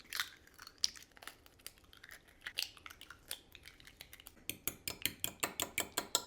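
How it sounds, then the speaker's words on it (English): A whisk beats four eggs in a mixing bowl, quick rhythmic clicking strokes against the bowl, soft and close, speeding into a brisk regular beat toward the end. "we're going to go ahead and beat up 4 eggs"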